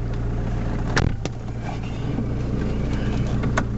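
A 1971 Mercedes-Benz 240D diesel idles low and steady as it drives in reverse, close and even throughout, with a couple of sharp clicks and knocks.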